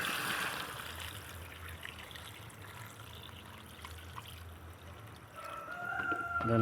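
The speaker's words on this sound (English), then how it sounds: "Top it off with some water." Water is poured into a pot of braising duck that already holds tamarind water, giving a steady close trickle and splash that runs throughout without talk.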